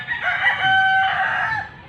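A young rooster (stag) crows once, close and loud, a drawn-out cock-a-doodle-doo lasting under two seconds with no talking around it.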